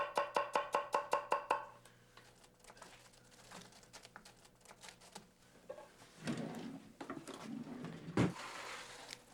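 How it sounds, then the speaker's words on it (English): Knife slicing through a red onion onto baby spinach leaves in a home kitchen, beginning with a quick run of sharp, evenly spaced chopping taps, then softer, irregular cutting sounds with a louder knock near the end. "now I'll simply slice that red onion right on top of those beautiful baby spinach leaves"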